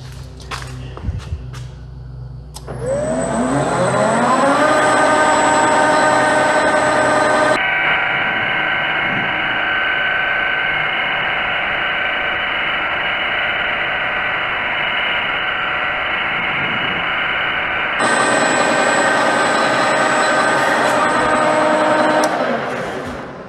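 A metal lathe cuts a bearing recess with a snap ring groove, a steady whine and hum of spindle and tool running for about twenty seconds, with a change in tone partway through.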